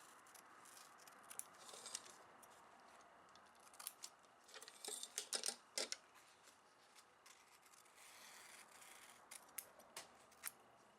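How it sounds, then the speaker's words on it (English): Scissors cut embroidery stabilizer away from a zipper on an in-the-hoop mini zipper wallet, making quiet, close, intermittent snips and rustling crinkles over about eleven seconds with no talking. "I cut the stabilizer away from the zipper so I'll be able to get into the pocket."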